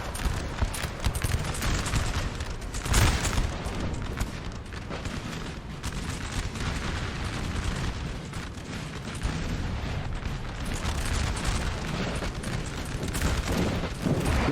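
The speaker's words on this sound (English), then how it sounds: "This artillery, though, definitely could get some nasty, wicked shots." Artillery and musket volleys in a Napoleon: Total War 4v4 battle against defensive lines, a dense continuous roar of booming cannon and crackling gunfire that holds loud throughout with no pauses.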